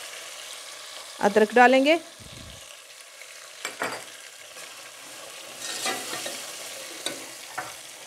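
Mutton frying in a pan for yakhni pulao gives a steady sizzle with stirring clatter, while someone talks over it in the first seconds.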